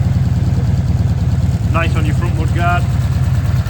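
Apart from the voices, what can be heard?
1984 Honda V65 Magna motorcycle engine idling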